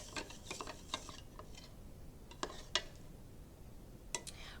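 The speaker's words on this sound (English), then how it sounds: "And then we're going to stir it for a good minute or so that the salts will dissolve." A spoon stirs salt into warm water for a crystal suncatcher, giving faint scattered clinks and taps against the container, with brief louder ticks near the end. The room is otherwise quiet and nobody speaks.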